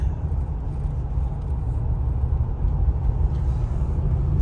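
A 1987 Buick Regal Limited turbo engine held against the brakes to build boost, a steady loud low rumble from inside the car with slight swells in intensity.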